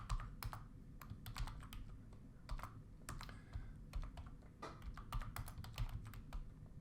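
Rapid, uneven keystrokes on a computer keyboard during a programming lesson, close and clear, with short bursts and brief pauses over a quiet background hum.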